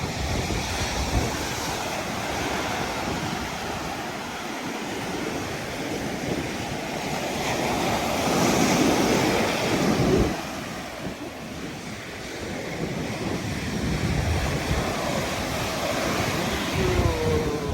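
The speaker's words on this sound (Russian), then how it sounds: "Вот вам волны." Sea waves breaking and washing onto a shore beside dunes, a continuous loud surf roar with a swelling surge midway, buffeted by strong wind noise across the microphone.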